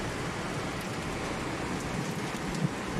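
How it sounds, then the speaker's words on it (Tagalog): Steady, heavy rain pours down in Dagupan during bad weather, a dense unbroken hiss with no talking. "sana hindi rin magtagal yung ulan na to"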